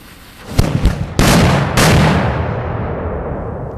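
Black powder thunder mugs fired in a volley, a series of loud close booming blasts in quick succession with long rolling decay, no talk.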